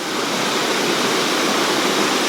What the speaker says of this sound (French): Voici le haut de la cascade